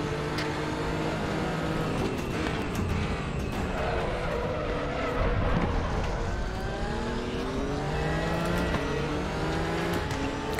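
Porsche GT race car in RaceRoom at Suzuka, its engine droning loud and steady with rising and falling pitch through gear changes as it accelerates out of corners, other cars audible nearby.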